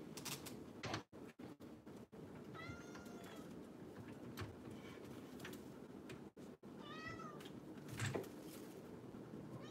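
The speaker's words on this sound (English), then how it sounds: "I'm gonna have to let the cat out. He's crying." A house cat cries with a few drawn-out meows near the middle of the stretch, heard over steady room noise and low household sounds, with brief breaks in the background.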